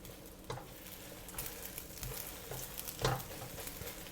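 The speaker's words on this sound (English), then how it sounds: "Just pour everything in. We are going to scramble them." Beaten eggs sizzle and fry in a hot wok, a steady crackling hiss with soft scraping stirs and pushes, close and moderately loud, with no talking.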